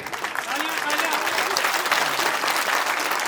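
An audience at a Hindu jagrata devotional event claps in a steady, moderately loud round of applause, with crowd voices and faint talk mixed in.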